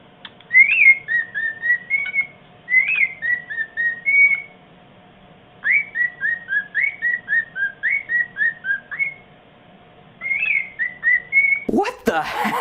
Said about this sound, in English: when this bird is done having sex, I guess he's all happy, so he whistles a song